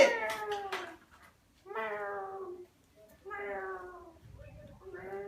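A cat meows four times close by, each call drawn out and falling in pitch, with short pauses between them.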